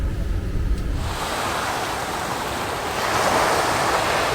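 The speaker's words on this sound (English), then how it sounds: "enjoy that view and the sound of the waves" Ocean waves wash ashore at night, a steady broad surf roar with a low wind rumble on the microphone at the start and a slight swell toward the end, with no speech.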